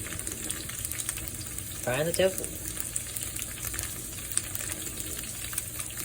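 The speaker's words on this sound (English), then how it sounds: "frying the tofu." A soft, steady sizzle of tofu frying in a pan runs throughout, with a short louder burst partway and a brief voice.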